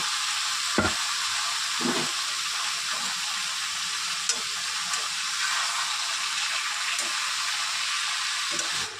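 Pumpkin greens sizzle steadily in a hot frying pan, a dense continuous crackle with a few soft stirring knocks and clinks throughout.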